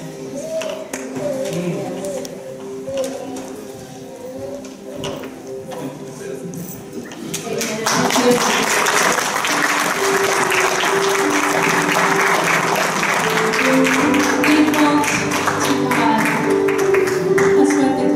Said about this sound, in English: That's what the clapping is about.